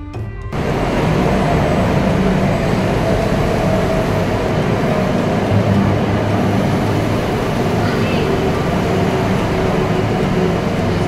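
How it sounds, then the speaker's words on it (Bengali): A Kolkata metro train pulls into Jessore Road station with a loud, sustained rumble and whir that starts abruptly and holds steady for the whole stretch, with no talk over it. "মেট্রো ট্রেন ঢুকে পড়েছে।"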